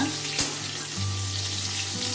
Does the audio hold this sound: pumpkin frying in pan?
yes